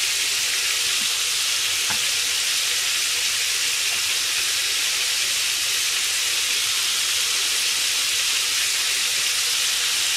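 Battered foods such as chicken, wonton, fish, potato, lotus root, eggplant and asparagus-corn fritters deep-frying in hot oil, a loud, steady, close sizzle and crackle throughout with occasional faint knocks.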